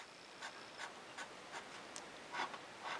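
Vintage Altura Self-Filler No 32 fountain pen nib scratching across paper in a series of soft, quiet strokes with light rhythmic pauses, faint and close with steady background hiss.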